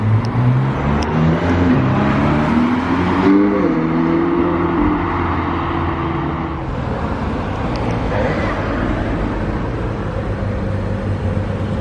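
A yellow McLaren 720S Spider convertible sports car passes close by, its engine note rising and shifting in pitch over steady, loud road and traffic noise, with the roar continuing throughout.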